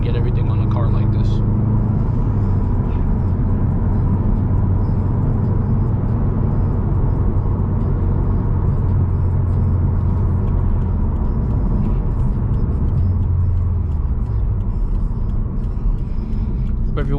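Cabin noise inside a 2020 Subaru WRX STI driving on the road: a constant low engine and tire drone with road rumble filling the whole stretch, steady and fairly loud, with no talking.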